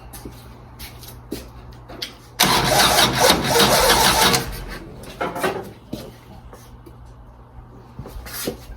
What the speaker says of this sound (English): All right, I'm gonna crank her up. I'm trying to start this thing.